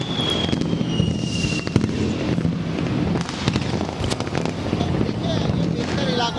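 New Year fireworks burst over Karachi, giving a dense, continuous crackle of distant pops and bangs with wind noise, as a voice talks over them.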